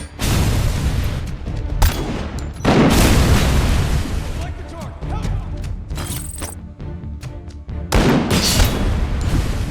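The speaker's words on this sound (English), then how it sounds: "There's a lot of explosions." Loud booms and crackling blasts from the video game RoboCop: Unfinished Business erupt repeatedly, some sharp and sudden, others rolling, packed closely together with hardly any quiet between.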